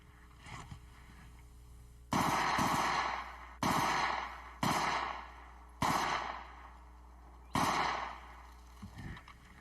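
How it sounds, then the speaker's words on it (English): Short bursts of automatic fire from an MP5 submachine gun shooting at melons: about five loud, sharp volleys spaced a second or two apart, each trailing off in a reverberant tail, with a few fainter shots at the start and end. "The MP5 is going to inflict a world of hurt on anything that gets in its way."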